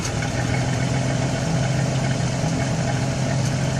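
A carbureted engine in a 1980 Chevrolet El Camino idles while warming up, holding a steady, even rumble for the whole stretch with no voices over it.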